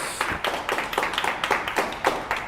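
Clapping for finalists at an online contest grand finale: a handful of distinct, fairly close hand claps in an uneven rhythm, with no voices over them.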